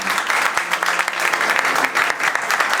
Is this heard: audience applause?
yes